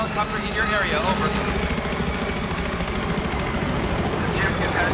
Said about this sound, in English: Spotted a hostile helicopter in your area.